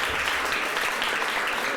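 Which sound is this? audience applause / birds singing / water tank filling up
audience applause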